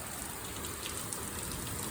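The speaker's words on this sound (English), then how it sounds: "it just caused a torrential downpour." Torrential rain from a Maryland afternoon thunderstorm, a dense, even hiss of heavy downpour on surfaces that stays constant and fairly faint.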